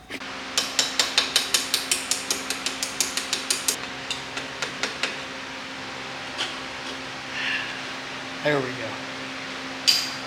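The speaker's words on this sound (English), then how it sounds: "let me cut this tube off" A tube on a 1957 Chevy steering column being cut off gives a rapid run of about twenty sharp metallic strokes that slow and fade, followed by a few isolated clicks and a brief scrape, with a short spoken remark.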